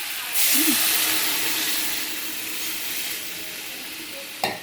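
Water poured into hot oil with frying mourala fish for a spicy curry sets off a sudden loud, steady hiss and sizzle that slowly settles, with a clank of a utensil near the end.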